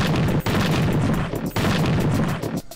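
Enemies exploding in the Reversevader game, a dense run of loud blasts and rapid gunfire-like bursts with brief gaps between volleys, close and continuous.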